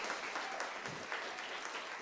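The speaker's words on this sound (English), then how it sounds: "can we give applause for that?" An audience applauds a guest for finishing a half marathon, with a brief, even burst of many hands clapping at moderate loudness and no talk over it.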